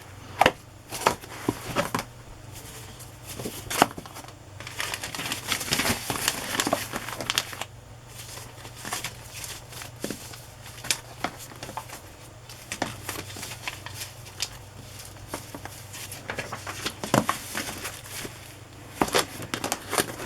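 Scrapbook paper being handled up close, with crinkling, rustling and sharp crackly rustles in irregular bursts, plus some papery thumps and shuffling of sheets throughout.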